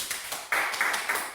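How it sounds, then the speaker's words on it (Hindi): A small group gives a short burst of clapping to welcome a newly promoted employee at an office gathering, quick and close. "कृपया तालियों के साथ इनका स्वागत करें।"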